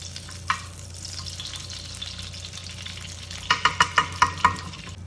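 Lamb fat and offal fry in ghee with a steady, moderate sizzle, followed near the end by a quick run of sharp metallic clinks from stirring.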